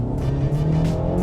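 A 2019 Ford Mustang Bullitt's 5-liter V8 holds a steady, loud low rumble with a faint rising tone, heard up close and alone for a brief moment.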